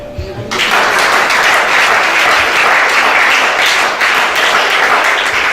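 A church congregation applauds in a sustained, dense burst of clapping that starts abruptly and stays loud and steady throughout, with crowd noise mixed in.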